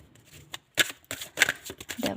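Tarot cards are shuffled by hand in several quick, close riffling bursts separated by brief pauses.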